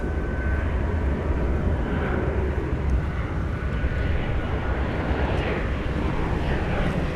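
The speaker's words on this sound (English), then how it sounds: "American Flight 2390 is jetting its way to Las Vegas, an Airbus A321." Airbus A321 jet of American Flight 2390 taking off at night at DFW Airport, bound for Las Vegas: a steady, loud broadband engine roar with low rumble that holds evenly throughout, with no voices.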